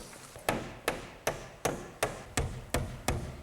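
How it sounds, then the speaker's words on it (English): Hammer tacking a nail into the edge of wall sheathing over a stud: eight sharp, evenly spaced blows, close and distinct, with short ringing decays between them. "I'm going to take this nail and tack it into the edge of the sheathing like this"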